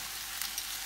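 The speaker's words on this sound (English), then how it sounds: "then we'll let it cook on the other side for about 4 minutes as well" Chicken pieces fry in a pan with a steady, close, hissing sizzle that continues evenly throughout.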